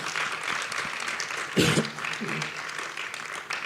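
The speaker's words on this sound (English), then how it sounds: "please give her a clap of praise" Audience claps in praise during a live talk show on relationships and marriage, a scattered, moderate patter of hands mixed with a speaking voice and a brief louder burst partway through.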